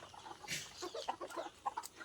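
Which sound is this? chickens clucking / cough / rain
chickens clucking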